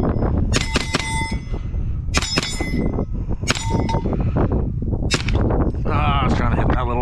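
Freedom Ordnance FX-9 Canadian Edition rifle with a new foregrip fired at a range, four loud sharp reports spaced about 1.5 seconds apart, with metallic ringing and clanks between shots.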